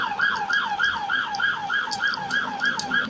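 A wailing ambulance siren sweeps up and down in a steady, rapid cycle, loud and continuous, from a car driving school simulator video game.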